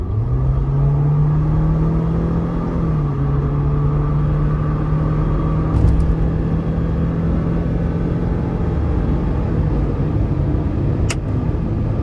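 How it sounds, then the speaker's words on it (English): 2023 Jeep Wrangler Rubicon 4xE with a 2.0-liter turbo four-cylinder hybrid powertrain accelerating, a steady loud engine drone rising slightly in pitch with road rumble beneath, heard from inside the cabin. "Let's give it some throttle here."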